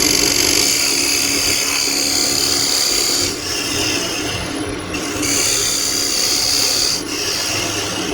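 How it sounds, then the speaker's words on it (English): Dovetail chisel scraping an angled recess into an Osage orange bowl on a woodturning lathe, giving a steady, loud rasping cut that runs nearly continuously with a couple of brief dips. "I'm going to use my dovetail chisel to put a little angle on the side of the recess."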